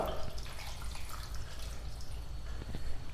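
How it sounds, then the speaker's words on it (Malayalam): A cup of water is poured into a pot of mango for cooking, making a short, soft splashing gush close by over a busy background. "1 കപ്പ് വെള്ളം ഇതിലേക്ക് ഒഴിച്ചു കൊടുക്കാം."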